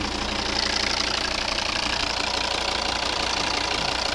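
A 2013 Volvo V70 with a D5 2.0 five-cylinder diesel runs at idle under the open bonnet, a close, steady clattering hum with an even, unbroken rhythm.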